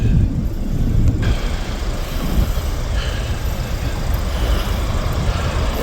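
An arriving bus gives off a loud, continuous engine rumble and road roar close by, steady throughout with no speech.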